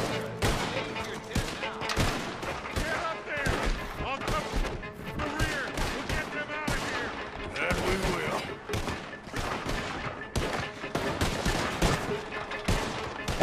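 Rapid rifle and gun volleys crackle through a Red Dead Redemption 2 bank heist shootout, dense repeated shots and impacts filling the whole stretch at steady loudness while a voice talks intermittently beneath.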